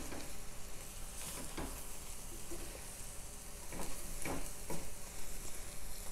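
A spoon stirs a simmering pot of green bean stew just after salt goes in, giving a steady bubbling sizzle with soft scraping strokes rising through the middle and end, close and continuous, with no talking.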